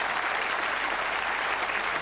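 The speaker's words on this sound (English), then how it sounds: "Reasonably enough, you're applauding your own answer." A television studio audience claps steadily in a broadband wash of applause, even in level from start to finish with no voices over it.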